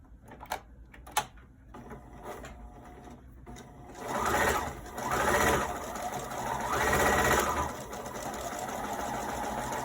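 A sewing machine running a straight stitch through pocket and trim fabric, a few short clicks first, then bursts of rapid mechanical whirring that rise and fall, close and fairly loud.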